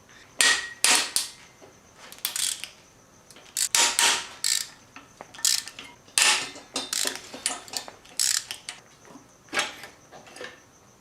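A ratchet backing out valve cover bolts during an engine teardown for a rod knock repair. Close, crisp runs of rapid clicking come in short bursts with brief pauses between, and no talk.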